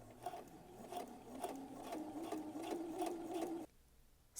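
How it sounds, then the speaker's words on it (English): Close, rhythmic clatter of a sewing machine stitching a dress seam at regular stitch width, running steadily for a few seconds before stopping abruptly. "you're going to do your seam at the 5/8 seam allowance"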